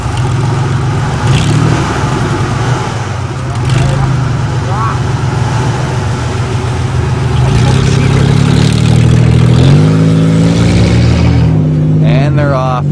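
Van engines, including a full-size Ford and a Dodge Caravan, idle and rev loudly at an informal drag race, rough low rumbling swelling into rising revs as people talk over the noise.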